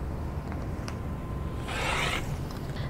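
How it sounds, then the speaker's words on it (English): Scissors or a rotary cutter slicing off the selvage edge of stacked quilting fabric, a brief soft rasping cut up close after a couple of faint clicks. "I'm going to go to the end and cut off the selvage edge"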